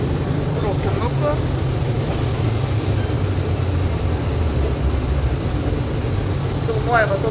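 Steady low rumble and hum of an airport shuttle train in Miami, heard from inside the car, with faint voices and a brief squeal near the end.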